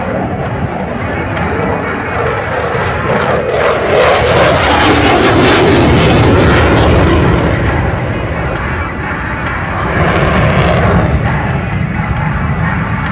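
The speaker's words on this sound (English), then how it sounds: "As this is his second year as Typhoon display pilot, Flight Lieutenant Peterson" A Eurofighter Typhoon jet flying its airshow display at Southport thunders loudly overhead, a roaring engine that swells to a peak mid-clip, eases, then surges again, with a faint crowd beneath.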